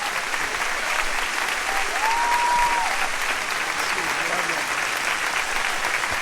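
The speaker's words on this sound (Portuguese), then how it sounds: "Eu quero que você dê um aplauso caloroso ao nosso querido irmão," A crowd at an evangelistic crusade gives warm, sustained applause welcoming Reverend Reinhard Bonnke, dense clapping filling the space with a voice faintly audible underneath.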